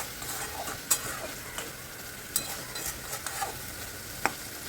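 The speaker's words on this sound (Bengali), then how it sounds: "ডিমটাকে দিয়ে ঝিঙের সাথে ভালো করে হালকা হাতে নাড়িয়ে চাড়িয়ে নিচ্ছি।" A spatula stirs ridge gourd and omelette in a pan, giving a continuous gentle sizzle broken by several sharp scrapes and taps against the pan, close and quiet.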